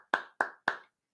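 Three sharp hand claps in quick, even succession, close and crisp, each decaying fast before silence.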